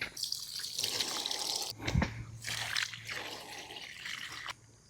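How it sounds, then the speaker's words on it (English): Water poured or sprayed onto young vegetable plants in a new farm garden, a steady splashing hiss with a few louder bursts, close by and continuous with no talking. "Let's throw a little water on these plants."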